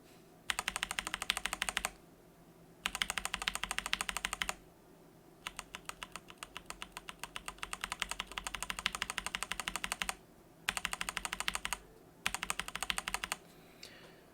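Typing bursts on a keyboard fitted with Everglide Crystal Purple tactile switches and keycaps, a dense run of crisp, close clacks broken by short pauses, with no voices.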